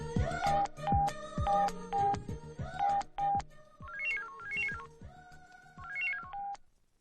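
A phone ringtone plays an electronic melody of bright repeated tones in several phrases, loud and close, with no voices over it, in a Malayalam comedy scene from the film Kalyanaraman.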